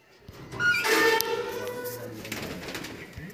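Pigeons coo in a loft, including a full-crested bird, with a brief louder burst of fluttering and calls followed by low, steady murmuring coos.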